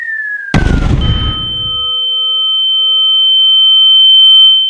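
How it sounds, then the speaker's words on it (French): Recreating the atomic bomb explosion over Hiroshima, a falling whistle ends in a sudden, heavy blast that dies away within a second or so, leaving steady high ringing tones. "Hiroshima est anéanti par une arme révolutionnaire et dévastatrice, la bombe atomique."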